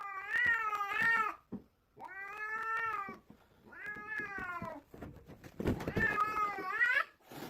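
A cat blocking a staircase meows repeatedly, four long wailing calls close by with brief pauses between them, the last one louder and more strained.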